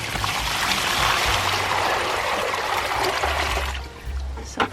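Warm water pours into a tub for cleaning seed-starting pots, a loud, steady splashing rush up close that tapers off near the end into a few light drips and knocks.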